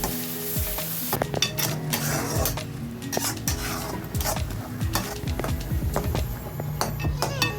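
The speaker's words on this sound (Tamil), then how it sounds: "அதை அப்படியே இதில் ஊற்றி கலக்கணும். இதுவும் நல்லா வதங்கணும்." Fish curry masala with ground coconut sizzles and fries in a pan, with steady close sizzling broken by frequent scraping stirs and clinks of a spoon against the metal pan throughout.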